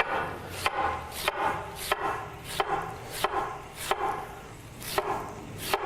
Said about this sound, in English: And what we're going to do is just slice these.